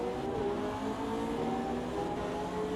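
McLaren 720S GT3 Evo race car in Automobilista 2 at Le Mans: a continuous, loud engine drone at a steady pitch with no breaks, no voices.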